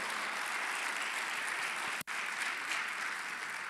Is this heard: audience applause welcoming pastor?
yes